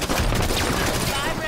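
Dense gunfire from Halo 5 gameplay fills the whole stretch, a loud, continuous barrage with booming low end, and a voice speaks beneath it.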